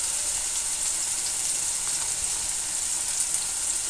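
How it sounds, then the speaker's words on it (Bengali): Eggplant fries slowly in oil on low heat, giving a soft, even, continuous sizzle that holds steady throughout with no speech. "এই বেগুনটাকেও আমি স্লো আঁচে আস্তে আস্তে ভাজতে থাকবো"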